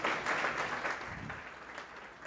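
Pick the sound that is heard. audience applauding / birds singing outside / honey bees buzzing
audience applauding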